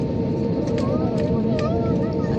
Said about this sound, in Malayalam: ഒരു ഫ്ലൈറ്റ് അതേ കൂടെ പോയി